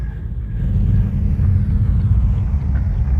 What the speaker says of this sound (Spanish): Al llegar el autobús a la zona llana